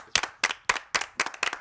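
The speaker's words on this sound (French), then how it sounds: "On peut applaudir l'équipe 2" A studio audience on a French game show claps for a team in a few slow, rhythmic, near-unison bursts, loud and close, with short gaps between them and no voices.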